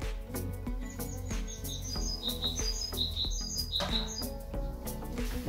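Young canaries in flight boxes chirp and tweet continuously, a busy overlapping chorus of bright short calls, close and fairly loud with no talking.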